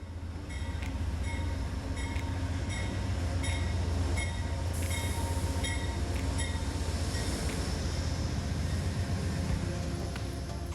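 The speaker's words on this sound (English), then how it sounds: "Our train squeals to a stop and we can climb aboard." An Amtrak Carolinian train led by P42DC locomotive 183, hauling Amfleet coaches and a baggage car, rumbles steadily with a persistent high wheel squeal as it rolls to a stop at a station.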